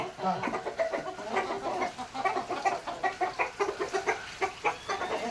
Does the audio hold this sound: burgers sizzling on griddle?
no